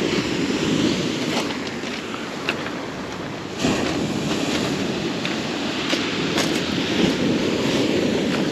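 Sea waves wash onto the beach at Lazarevskoye in Sochi in January, a steady rushing surf with gusts of wind and a few louder breaks, without talk.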